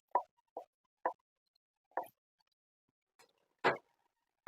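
Green pea paste is poured into a pan for kachuri, landing as a few separate soft plops and wet knocks spaced apart in an otherwise silent kitchen.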